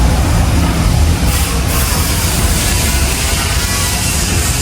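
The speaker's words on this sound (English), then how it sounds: "There's a lot of construction going on in Puerto Vallarta." Steady broadband construction din in Puerto Vallarta, Mexico, a continuous rumbling roar with heavy low-end machinery noise that holds at a constant loud level with no pauses or talk.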